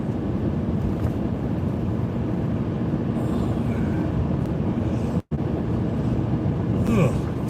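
An eastbound train passes by a large concrete yard: a steady, loud, low rumble that fills the whole stretch, with a brief dropout partway and no talk.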